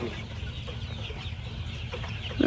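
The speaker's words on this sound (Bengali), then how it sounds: "এখানে এই সেটের মধ্যে দুই হাজার মুরগি আছে" Hybrid Sonali chickens cluck in a poultry farm shed holding about two thousand birds, a dense, continuous low murmur of many birds under steady background noise, with one clearer call at the end.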